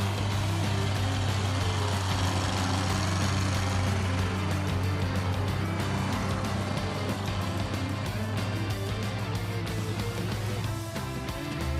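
A logging skidder with massive chain-wrapped tires and a hydraulic grapple runs its engine steadily, a continuous loud drone under music-like tonal layers for the whole stretch, with no talking.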